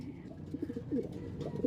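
Soft, low pigeon coos repeat in short rounded pulses, close but quiet, with some faint background rustle.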